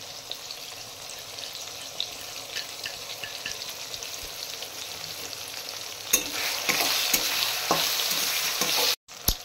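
Green chili and ginger paste fry in a pan for a vegetarian potato curry, producing a steady close sizzle with occasional stirring scrapes that grows louder and busier toward the end.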